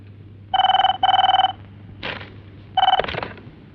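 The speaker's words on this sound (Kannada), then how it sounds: "ಕಿರಣ್ ಫೋನ್ ಮಾಡಿದ್ದಾನೆ." An old landline telephone bell rings in two quick bursts, then rings again after a pause. Between the rings comes a short indoor clatter or voice.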